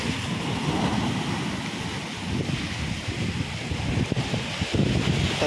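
Surging high-tide sea waves wash onto a Konkan shore in a continuous broadband roar, mixed with gusty wind buffeting the microphone.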